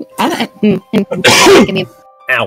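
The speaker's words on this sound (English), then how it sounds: "That was a cough." A loud, close cough bursts out between short spoken phrases, one sharp explosive cough amid talking.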